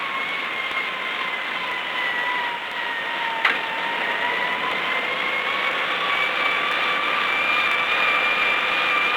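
A 1950 electric locomotive uses dynamic braking on a downgrade, its traction motors giving a loud, sustained whine whose pitch glides slowly downward over a steady mechanical rumble, with one sharp click midway.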